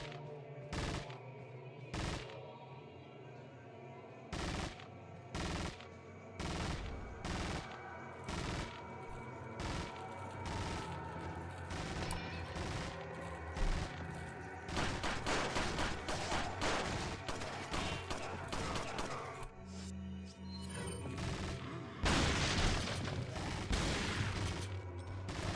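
Rapid gunfire from the video game Resident Evil 4 Separate Ways, with bursts of sharp automatic shots in irregular clusters that build into dense, sustained volleys toward the end, fairly loud and with no voices.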